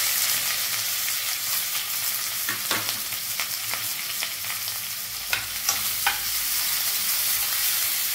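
Garlic, curry leaves and onion fry in a hot oil tempering for dal, giving a steady, dense sizzle with scattered sharper crackles and stirring clicks throughout, no voice over it.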